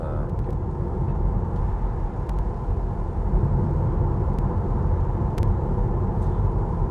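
Steady low rumble of tyre and road noise inside a Tesla Model 3 SR+ while driving, a continuous broadband drone with no speech over it.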